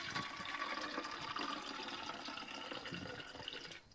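Filtered laundry rinse water poured from a sand-filter test batch into a container, a steady close liquid splash and trickle running for about four seconds before tapering off.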